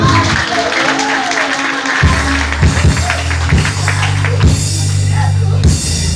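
A church congregation claps hands together for Jesus during a worship service, a loud, steady wash of many hands under sustained music and voices, with some sharper individual claps standing out.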